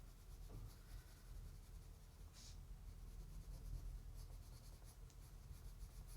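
Colored pencil shades on paper with light, medium-pressure strokes, a soft, faint, continuous scratchy rubbing with a few brief sharper scrapes, close to the listener and with no talking.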